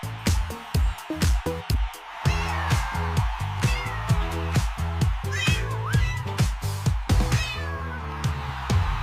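Repeated cat-like meows over a bouncy, rhythmic backing track with steady beats, sounding like a voice imitating a cat in a playful dance song.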